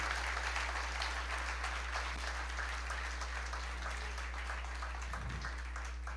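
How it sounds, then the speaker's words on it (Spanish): A church congregation applauds during a Spanish-language sermon on finances, a steady, fairly distant wash of clapping held at an even level over a constant low electrical hum. "Dale un aplauso al Señor"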